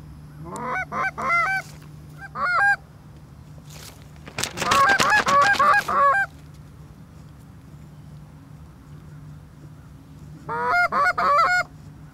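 Geese honk repeatedly near a hunting decoy spread, with several bursts of calls, a loud dense flurry of overlapping honks midway, then a quieter gap before another close series of honks.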